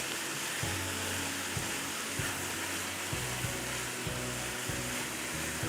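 Grated carrots for gajar ka halwa fry in a pan with a steady, dense sizzle, broken by occasional scrapes and stirs, close and continuous with no voices.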